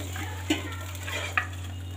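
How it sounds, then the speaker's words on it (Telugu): Water hits a hot tempering in a pan for a horse gram ulava kattu, giving a soft, steady sizzle over a constant low hum, with two brief clinks of stirring. "కొద్దిగా వాటర్ అయితే వేసాను"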